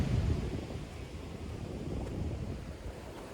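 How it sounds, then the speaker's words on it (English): Big ocean waves break on a beach, a soft, low surf rumble mixed with wind buffeting the microphone, fairly faint and continuous. "these waves were humongous, throwing me around everywhere"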